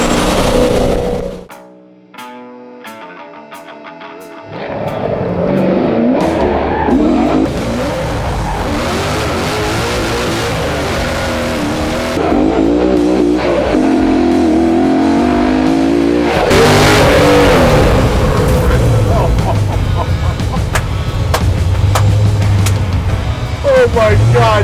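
A 1963 Ford Falcon rally car revs and accelerates hard up close, with a short lull near the start and bursts of tire squeal. People talk over the loud engine throughout.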